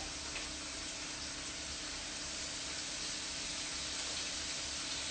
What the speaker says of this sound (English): you guys can probably hear it sizzling.